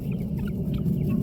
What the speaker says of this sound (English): He's calling the chickens up here because all of them didn't see it go off.